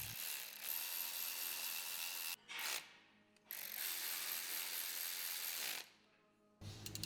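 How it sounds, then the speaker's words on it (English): A torque wrench ratchets while tightening billet clamp hardware on a Polaris RZR RS1 rear shock, a steady close run of dense clicking broken by two short pauses before the final stretch. "Torque all of the billet clamp hardware to 20 foot-pounds"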